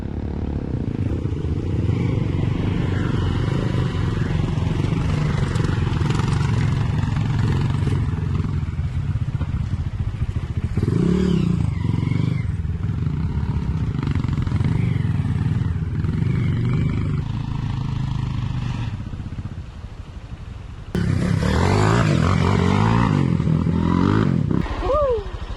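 Motorcycle engine revving and roaring unevenly on a dirt trail during a rider's first trail outing, loud and close, with bursts of throttle and a brief dip before surging again; voices speak over it.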